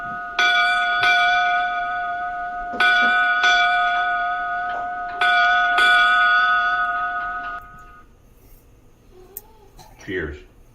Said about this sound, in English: For 8 Bells, Mr. Davey.